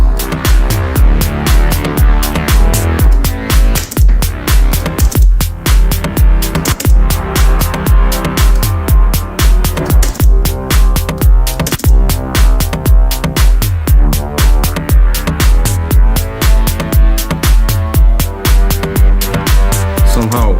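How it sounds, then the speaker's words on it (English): Continuous acoustic deep house music with a steady beat and dense instrumentation, washed in long reverberant tails that blur each note into the next; no voices. "Way too much reverb."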